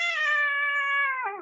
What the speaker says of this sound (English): that cat knows what I'm talking about.